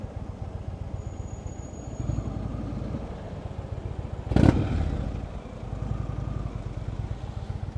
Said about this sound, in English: a blip there just to let him know I'm coming through